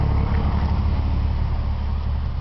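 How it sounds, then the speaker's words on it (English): A very noisy truck rumbles past close by, a heavy, steady low drone that fills the whole moment with no voices. "And that's a very noisy truck!"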